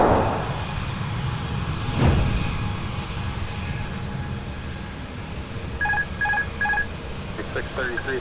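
Delta 120 Heavy, an airliner from Tokyo Haneda, landing at Minneapolis–St. Paul airport, a broad continuous engine roar with a brief whoosh, steady tonal whine and a few short beeping tones near the end.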